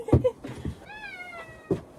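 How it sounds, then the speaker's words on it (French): A large cat that came onto a porch in freezing weather meows once, a clear drawn-out call between soft handling noises. "il y a un chat qui est venu sur le perron, puis je peux le prendre"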